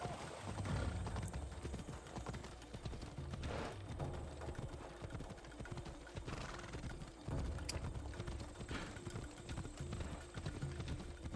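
Hooves of a horse in the video game Assassin's Creed Odyssey clatter steadily in a fast galloping rhythm, continuous and fairly close, with a dense noisy backdrop throughout.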